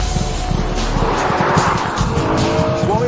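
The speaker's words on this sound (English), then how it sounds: "That's induction noise. Yes, it is the noise of an engine working" A BMW M3 engine driven hard gives a loud, strained induction roar, sustained and rising in pitch with rhythmic pulsing and a brief squeal near the end.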